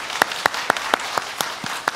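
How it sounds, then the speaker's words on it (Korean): A church congregation claps in welcome during a Sunday service, sharp claps falling in a steady even rhythm about four per second, fairly near, with no voices. "우리 크게 박수로 축복하고 환영하겠습니다"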